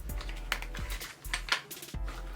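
A Smith & Wesson M&P 2.0 pistol is fitted into a CAA MCK kit. A close, quiet series of sharp plastic-and-metal clicks and knocks comes at irregular intervals.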